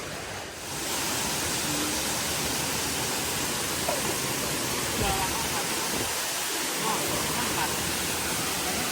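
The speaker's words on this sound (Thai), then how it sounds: "น้ำตกไตรตรึง" The Trai Trueng waterfall roars as a broad, constant rush of falling water at close range, steady and loud throughout with faint human sounds barely emerging.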